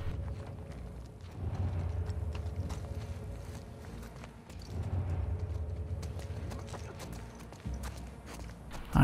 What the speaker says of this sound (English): Why do I fucking hear the footsteps so close to me?